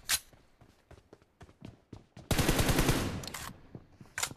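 Rapid gunfire from the mobile shooter BGMI during headshots: a string of sharp, evenly spaced shots, then a dense burst of automatic fire midway, with a few more crisp shots after.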